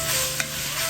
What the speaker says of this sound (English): So now we are going to add in our garlic and let this cook out about 1 minute